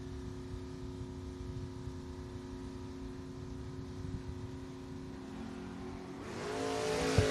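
Drag racing Ford Mustang Mach 1 and Chevrolet Camaro run as a steady engine drone, rising into a louder, broader roar near the end as the cars close in.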